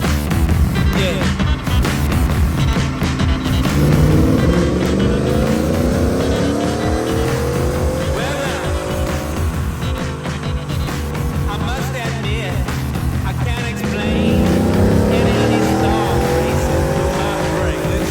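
Ford F-150 pickup with a 10-speed transmission revs hard on a dyno, the engine rising repeatedly through long sweeping pulls, loud and close with a steady roar and occasional shouts underneath.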